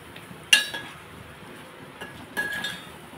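A spoon clinks and scrapes against a cooking pot while ingredients for a Telugu lunch of pepper rasam and broad bean fry are stirred, with two sharp metallic taps and soft scraping between them, close and fairly quiet.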